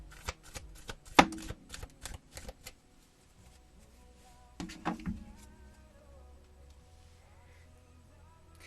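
Tarot cards shuffled by hand during a reading, a quick run of crisp riffling flicks followed by a pause, then a second, shorter burst of shuffling; close and fairly quiet, with no talking.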